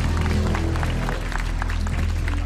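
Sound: studio audience applause

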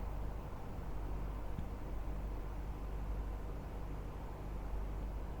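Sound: air conditioner hum in a room

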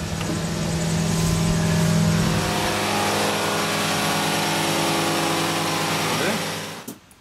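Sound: boat engine revving up to 2,800 rpm

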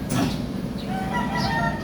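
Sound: chickens clucking

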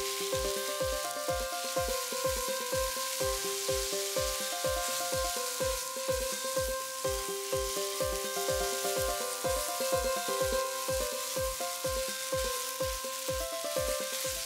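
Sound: frying grated raw mango in a pan

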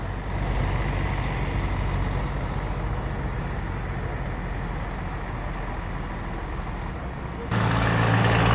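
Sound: bus arriving at a station

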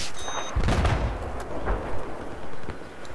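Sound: mortar fire in the video game Battlefield 4

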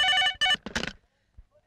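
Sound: telephone ringing

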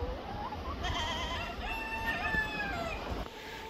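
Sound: goats bleating

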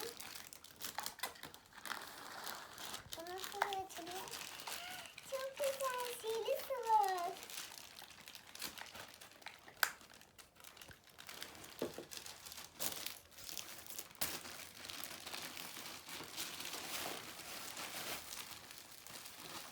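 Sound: crinkling plastic bags of parcels being opened

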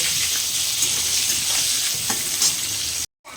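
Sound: potatoes frying in oil

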